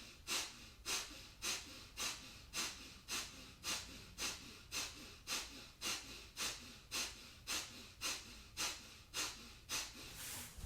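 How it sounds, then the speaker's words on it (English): Kundalini yoga breathwork: strong, rhythmic breaths through the nose, with forceful exhales pumping the belly toward the spine. About twenty even, close breaths come in steady succession and sound loud and airy with no speech. "inhale Sat, exhale Nam, pushing the belly toward the back of the spine at the navel point on the exhale"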